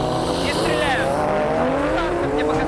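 A Porsche race car sits at a drag race start with its engine revving, the pitch sweeping up and down in loud, continuous rises close by, amid other cars and a commentator talking over it.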